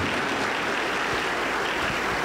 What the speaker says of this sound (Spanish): Damos un fuerte aplauso para el Señor Jesús, todos contentos.